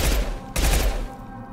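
Shotgun blasts in Mass Effect 2, a sci-fi shooter video game: two loud, booming shots with sharp attacks, each trailing into a lingering rumble, the second following about half a second after the first.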